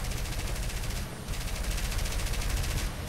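A bomber's defensive gunner fires machine guns nonstop in War Thunder, a loud, dense rattle of rapid bursts filling the whole stretch with barely a break.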